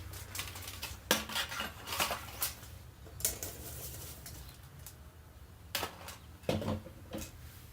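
Metal clinks and clatters as a pot holder is fitted onto a camping pot over an alcohol stove, a few sharp, close taps and scrapes spread through the clip with quiet rustling between them.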